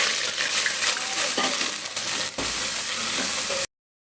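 Ginger garlic paste fries in hot oil for mutton qorma, a loud, close, continuous sizzle with crackle and occasional stirring scrapes, ending abruptly in silence.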